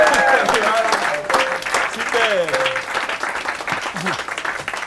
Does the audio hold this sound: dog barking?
no